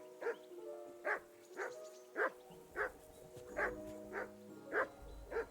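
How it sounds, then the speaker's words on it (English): A dog barks in the video game Kingdom Come: Deliverance II, about eight evenly spaced barks over a steady game-world background, clear and moderately close. "Henry, that barking's driving me nuts."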